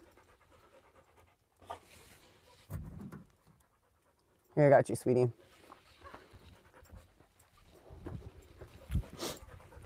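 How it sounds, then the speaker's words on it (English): A dog pants steadily in close range with bursts of lapping or slurping, while someone speaks softly nearby; outdoors at a desert camp gathering. "You drink so much water."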